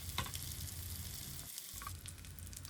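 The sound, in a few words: tilapia fish pieces searing in hot oil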